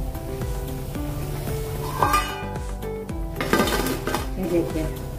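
Crisp fried potato snacks, made from raw potatoes, clink and clatter as they are lifted and stirred out of hot oil, with irregular light knocks and a faint sizzle underneath.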